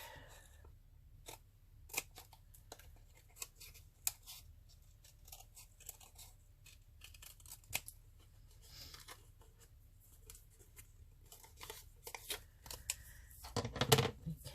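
Scissors snip and trim paper pieces for a vintage craft coin-holder embellishment, giving quiet, irregular close-up clicks and rustles, with a louder flurry of cutting near the end.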